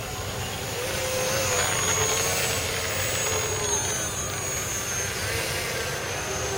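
Remote-control twin-engine airboat running steadily, a high, buzzing propeller whine with a strong tonal drone that swells slightly as it passes, constant and fairly close with no breaks.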